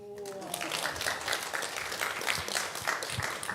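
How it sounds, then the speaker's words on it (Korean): Audience applause at a church summer camp afternoon sermon, a dense wash of clapping that runs steadily throughout after a brief opening voice, moderately loud with faint voices mixed in. "박수 쳐주세요"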